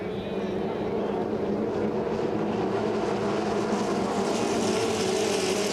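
A loud, sustained engine roar from a field of 2.5 litre racing boats opening the throttle at the start of a hydroplane final at St-Félicien, a continuous droning mass.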